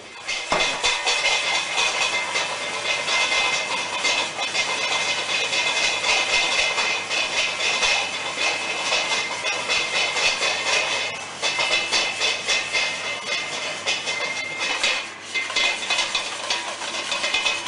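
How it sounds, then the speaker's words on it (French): A whisk steadily beats rouille, a garlicky mayonnaise-style sauce, as olive oil is drizzled in to thicken it. The scraping and sloshing run continuously and close-up, with no voices. "Nous allons récupérer l'huile d'olive et commencer à monter cette rouille."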